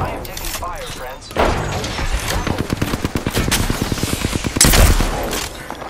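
Rapid automatic gunfire from a shooter video game's final circle, a fast bursting fusillade running through most of the clip with a louder volley near the end, while a player talks over it.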